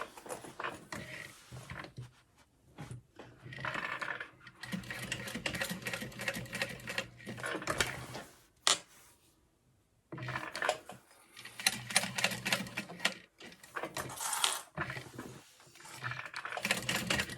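Sewing machine stitching a bag, running in long mechanical bursts of rapid, even stitching with brief pauses between passes, close and fairly loud.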